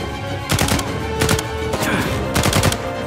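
Gunfire in the video game Uncharted 4: three loud bursts of rapid automatic shots, each a short rattling volley, separated by brief gaps over game ambience.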